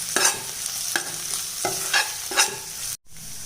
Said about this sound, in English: I'm then going to fry this well once again for a minute on low flame.